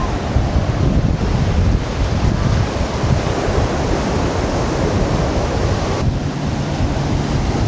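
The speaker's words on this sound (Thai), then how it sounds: "วันนี้คลื่นลมแรงนิดนึงนะครับ คลื่นแรงอยู่พอสมควร" Strong surf and gusty wind on a beach on Koh Samet, Thailand, roaring continuously and close, with heavy wind buffeting the microphone.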